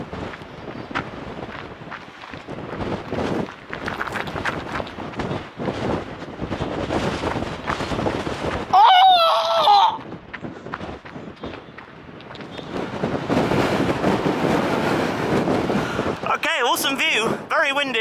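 Strong wind buffets the microphone on a Cornish coast path between Land's End and Sennen Cove, roaring and gusting in heavy bursts with footsteps and brief talk mixed in.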